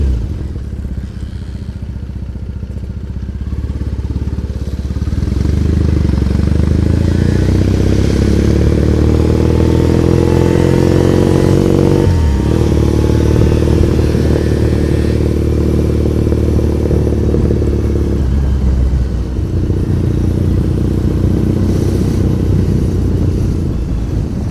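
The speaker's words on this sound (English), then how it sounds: "This guy's on a little two-stroke Yamaha." A small two-stroke Yamaha motorcycle rides through Tokyo traffic, its engine buzzing and rising in pitch, dipping briefly around midway, then revving on again, loud and continuous alongside city traffic.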